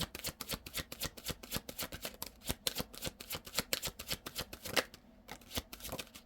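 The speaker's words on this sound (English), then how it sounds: "If you don't like the shuffling, you can fast forward through the shuffling." A deck of tarot cards is shuffled by hand, giving a rapid, continuous run of papery riffles and slaps in a steady rhythm, close and fairly loud, with no talking.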